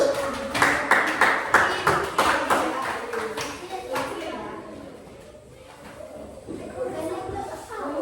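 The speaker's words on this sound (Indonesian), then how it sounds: "kita tepuk tangan untuk" Several quick hand claps near the start, then children chattering and calling out, with the clapping fading into general voices.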